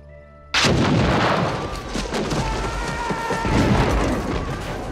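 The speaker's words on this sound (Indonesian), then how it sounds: "kiriman meriam yang dimix dengan tembakan senapan" Cannon fire mixed with rifle shots in a battle: a sudden loud boom opens a dense, sustained barrage of blasts and cracking gunfire that rolls on at full strength.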